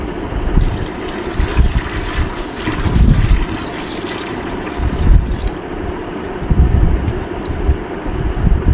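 Soaked dal being washed in water, with continuous sloshing and splashing that swells in several surges, close and fairly loud with no talking.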